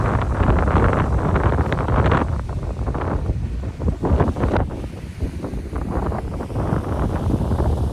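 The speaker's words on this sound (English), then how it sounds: "It's very windy on this corner." Strong wind gusts buffet the microphone on a street corner, a loud, rumbling roar that surges and dips continuously for the whole stretch with no voices.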